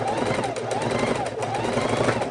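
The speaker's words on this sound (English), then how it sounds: "I'm just chain stitching" A sewing machine chain stitching fabric quilt pieces cut from 2 1/2-inch scraps, a continuous rapid mechanical hum and rattle running steadily throughout, close and fairly loud.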